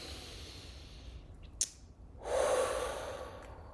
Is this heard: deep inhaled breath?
yes